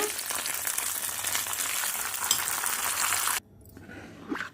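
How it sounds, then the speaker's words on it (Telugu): Hot tempering poured into curd rice, a loud dense sizzle and crackle that cuts off sharply near the end, leaving a faint stir and clink. "స్టవ్ ఆఫ్ చేసేద్దాము పోపుని ఇందులో వేసేసుకుందామండి దద్దోజనంలో వేసేసుకుందాము"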